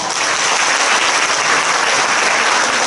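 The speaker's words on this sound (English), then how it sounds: "Can you give them a big round of applause?" Loud, dense applause from a business event audience filling the room, continuous and even throughout.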